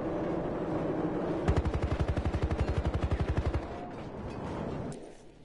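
Rapid automatic gunfire from a gun in the shooter game Battlefield Hardline, a loud burst of about two seconds with evenly spaced shots, then a quieter stretch of game noise.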